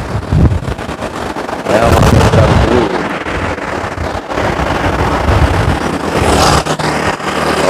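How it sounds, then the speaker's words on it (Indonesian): Traffic rushing past on a road, broadband whooshes with buffeting wind noise at the microphone, loud and continuous with swells as vehicles pass close; a brief spoken word is heard. "Bentar, masih ada banyak kendaraan"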